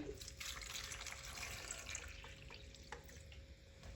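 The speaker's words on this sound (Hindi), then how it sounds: "और यहाँ पे मैं अब गर्म पानी ऐड कर दूंगी।" Hot water poured over cauliflower in a home kitchen, a continuous splashing, running-water rush with a few small clinks, close and steady throughout.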